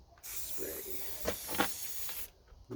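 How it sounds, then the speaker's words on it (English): A spray gun hisses out paint onto a camper in one continuous burst of about two seconds, loud and close, starting and stopping abruptly, with a voice speaking briefly around it. "So we're going to be moving and then we're going to hit the gun."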